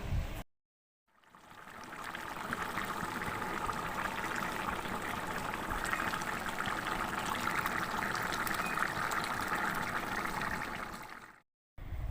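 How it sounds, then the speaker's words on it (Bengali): Water poured into a simmering coriander prawn curry, a steady broadband rush that runs about ten seconds, loud and close, starting and stopping abruptly with brief silence at either end. "এবার কিন্তু আমি জল ঢেলে দিলাম"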